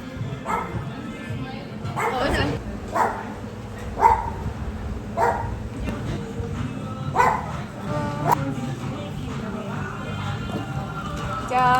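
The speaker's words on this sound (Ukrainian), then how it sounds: "Це Нала, Бішана собака." A dog at a café in La Zenia, Spain, gives a series of short, fairly close barks and yips at an irregular rhythm, mixed in with people talking nearby.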